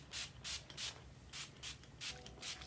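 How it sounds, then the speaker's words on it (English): Quick, soft bursts from a spray bottle misting hair hiss out one after another in a loose rhythm, close and fairly quiet, with no one talking. "I spray my hair really good."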